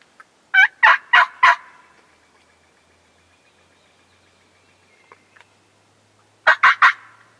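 Wild turkeys gobbling in Vermont woods, a quick burst of three gobbles, a long quiet gap, then another triple gobble, moderately near and clear with no talk.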